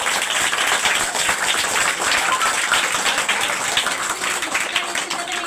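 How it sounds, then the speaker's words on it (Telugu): Schoolchildren clapping their hands together in a classroom, a dense, steady patter of many small hands close by that carries on throughout without a break. "ఒకసారి క్లాప్స్ కొట్టండి అందరూ."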